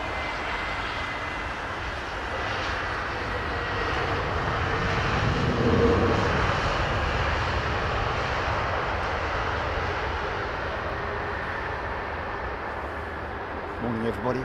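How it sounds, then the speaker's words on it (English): Boeing 747 freighter at London Heathrow, a sustained jet engine roar that swells slightly toward the middle and then holds steady, a broad rumbling wash of sound. "it looked like a 747"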